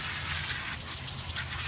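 Water sprays in a steady, close hiss while rinsing car battery cable terminals under the hood, with no voices.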